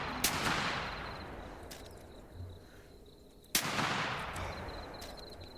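Hunting rifle fire in theHunter Classic game: two sharp, loud shots a few seconds apart, each followed by a long rolling echo that slowly fades over a steady outdoor ambience.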